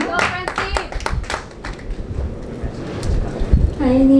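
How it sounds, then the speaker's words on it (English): Audience applause for a Miss Grand Philippines 2023 contestant, with a burst of sharp claps at the start that thins into scattered clapping and crowd noise, and a voice coming in near the end. "Let's give her a round of applause, everybody."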